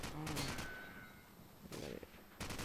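Call of Duty 4 gunfire on PS3 sounds in loud, quick bursts at the start and again near the end, with quieter game noise between them.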